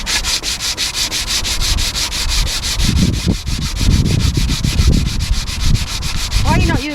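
Hand sanding of filler on a steel narrowboat hull makes a steady, rhythmic rasping scrape, with quick back-and-forth strokes repeating close by for several seconds.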